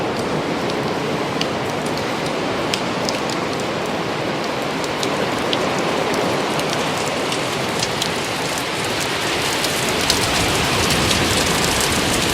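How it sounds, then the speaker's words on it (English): Heavy rain pours down steadily outside during a storm at Brushy Mountain State Penitentiary, a dense, even hiss of drops pattering on surfaces, with no voices. "if you can't hear it already, that rain is just howling out here"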